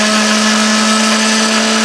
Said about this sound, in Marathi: तर चला आता आपण करूया मिक्सर चालू